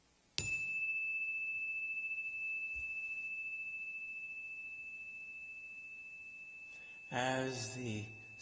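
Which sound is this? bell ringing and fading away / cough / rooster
bell ringing and fading away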